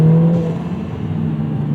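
Lotus Emira with the V6 engine pulling on the throttle along a road, a steady low drone of engine and road roar with a brief rising tone at the start, loud and close.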